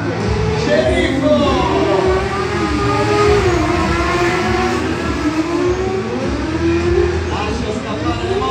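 Motorcycles revving repeatedly during a stunt show at an amusement park, loud rising and falling engine whines mixed with a crowd and a showman's amplified voice.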